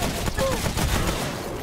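Gunfire in the video game Remnant: From the Ashes, a dense rapid burst of shots with broad noisy crackle under a voice, loud and continuous.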